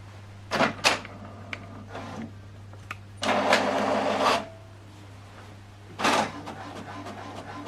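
An HP Deskjet 4120e printer feeding and printing a page, with short mechanical clicks and whirs, then a longer motor run of about a second, a final burst and a low steady hum underneath.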